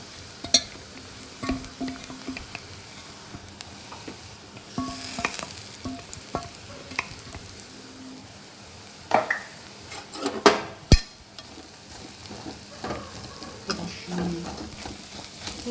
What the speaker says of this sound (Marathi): वाटण थोडंसं असं परतून घ्यायचं